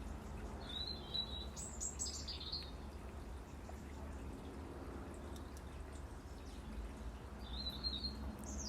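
Small bird chirps in short high bursts near the start and again near the end, fairly faint over a steady low background hum, with quiet gaps in between.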